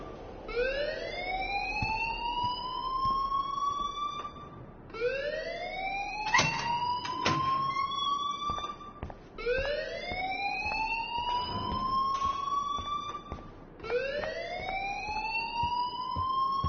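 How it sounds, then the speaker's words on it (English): Rising electronic alarm siren inside the video game Life Is Strange, repeating in four long upward sweeps with bright overtones, loud and close, with a few short knocks and clatters between them and no talk. "please turn off that alarm since that's your job"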